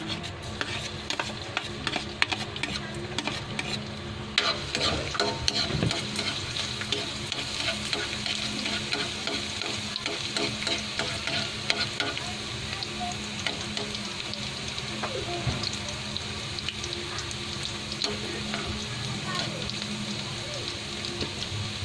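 Garlic fries in a pan for chicken adobo in coconut milk, with a continuous crackling sizzle and repeated scraping stirs over about twenty seconds.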